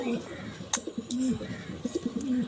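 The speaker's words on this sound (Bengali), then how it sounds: "এই যে পায়রা দেখতে পারেন।" Pigeons cooing nearby in soft, repeated low coos, with brief flutters and other sounds mixed in.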